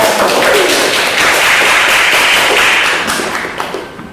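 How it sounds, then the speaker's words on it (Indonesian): Applause from a classroom audience for a group of students, a dense burst of many hands clapping together that stays steady and close, then thins and fades toward the end. "Berikan aplaus dulu untuk kelompok"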